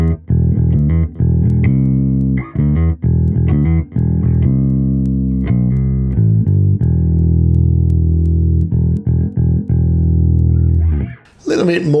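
Bass guitar played through a 1x15 cabinet and captured with a 421 dynamic mic, filtered below 45 Hz and above 5 kHz, giving a thick, sustained low-mid tone with repeated plucked notes, loud and up close, ending with a short noisy tail.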